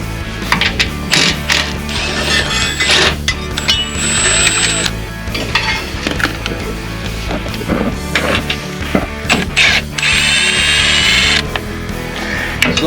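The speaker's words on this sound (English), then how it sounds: "first thing we're going to do is remove the fuel filter cover here. These are a 10 millimeter, and Ryan's going to go ahead and get that." A ratchet wrench loosens the 10 mm bolts on the fuel filter cover of a diesel Jeep Gladiator JT, giving loud, close bursts of rapid clicking with metallic clunks and taps between strokes, and no talk.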